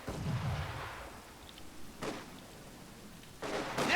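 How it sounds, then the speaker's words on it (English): Mortar rounds thump out in the Company of Heroes 2 strategy game, a few dull muffled bursts spaced apart among faint battlefield rumble. "Mortar firing away."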